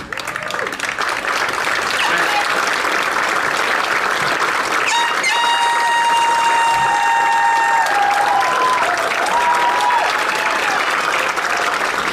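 Graduation crowd for the class of 2021 in Viroqua applauding steadily and loudly, with cheers rising over the clapping and faint tonal sounds drifting through midway.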